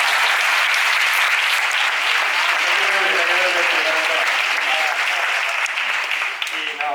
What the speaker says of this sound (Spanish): Así que un aplauso para mí.